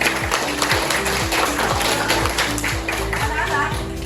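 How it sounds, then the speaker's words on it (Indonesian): Students in a classroom clap together after a biology lesson on protein synthesis, a steady run of close, even handclaps that fills the whole few seconds. "Tepuk tangan."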